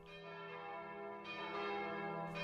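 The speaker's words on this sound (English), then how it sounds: "the rhyming and the chiming of the bells" Church bells ring in a sustained, resonant peal, with overlapping strikes and a bright hum that swells slightly toward the end, heard alone at moderate distance.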